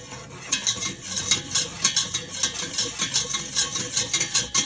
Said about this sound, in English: I'm going to add the flour mixture in. And I'm just going to whisk it in, combine it with the butter